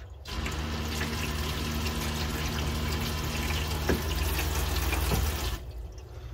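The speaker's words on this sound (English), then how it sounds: "And as soon as I shut the tap off, the pump shuts off." An RV's Shurflo water pump runs with a tap open, giving a steady close rush of flowing water over a low pump hum for several seconds before both cut off abruptly near the end, with no talking.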